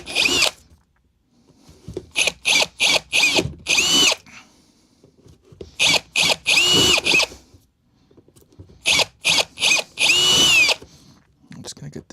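Bursts of a power drill boring a 1/8 inch hole in a metal guitar amplifier chassis, three clusters of short loud whirring pulses separated by pauses, close and alone.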